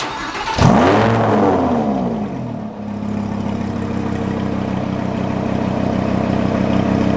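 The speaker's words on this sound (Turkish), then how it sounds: "Şimdi bir de egzoz sesine bakalım arabanın." A chip-tuned Lamborghini LP610 fires up with one sharp, loud roar from the engine and exhaust, then falls into a steady, throbbing idle that carries on up close.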